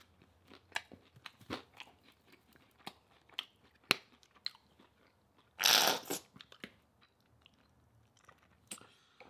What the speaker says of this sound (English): let's get a bite.